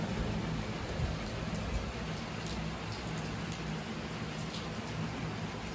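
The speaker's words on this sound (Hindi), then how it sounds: "काफ़ी तेज बरसात," Heavy monsoon rain pours down outside, a dense, steady broadband hiss of drops on surfaces that continues without pause and without voices.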